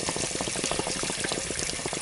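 Water gushes steadily and loudly from the drain of an RV water heater, a continuous splashing, bubbling rush with no pauses.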